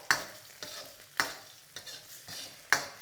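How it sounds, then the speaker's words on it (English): Egg being scrambled with a ladle in a hot oiled wok for Thai-style pineapple fried rice: sharp metallic scrapes and stirs about every half second over a steady frying sizzle, close and moderately loud, no talking. "I'm going to run my ladle through my egg, giving it a nice scramble."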